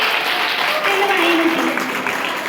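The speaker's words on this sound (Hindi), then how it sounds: "ताली बजा दीजिए इस बच्चे के लिए" An audience claps for a child at a traditional folk dance and folk song workshop, a steady wash of applause lasting a few seconds with talk audible over it.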